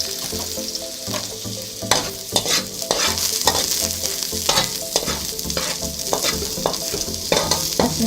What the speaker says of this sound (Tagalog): Ngayon pong mainit na ang ating mantika ay gigisahin na natin itong bawang.